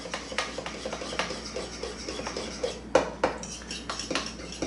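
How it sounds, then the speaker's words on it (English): A spoon stirs ketchup-based cocktail sauce in a cup, close repeated scraping and light clinks of metal against the cup in an uneven rhythm, with one sharper knock near the middle and no talk. "And basically just stir it up."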